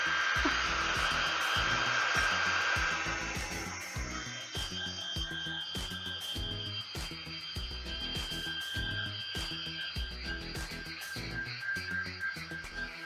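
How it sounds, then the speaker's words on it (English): A hair dryer blows steadily to dry white paint on a pine cone, a continuous close airy whoosh with hand-held knocking and handling noises beneath it throughout. "we're going to blow dry the white parts"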